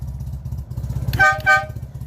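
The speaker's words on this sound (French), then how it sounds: "le klaxon de luxe, mon copain." Citroën Visa car horn giving two short honks in quick succession over a low idling engine rumble, close and loud.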